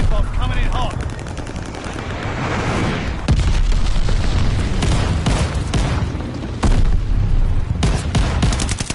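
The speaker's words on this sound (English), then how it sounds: "Heads up, enemy glide bomb coming in hot." Explosions and heavy gunfire in Call of Duty Vanguard, with repeated loud booms and rapid bursts in a dense, chaotic battle soundscape.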